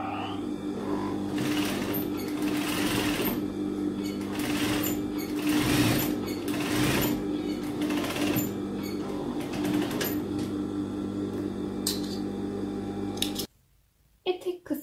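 Sewing machine running steadily as it stitches a folded, double-turned sleeve hem on a simple dress of old Şile cloth, a continuous close whir for about thirteen seconds before stopping abruptly, with a few faint clicks after.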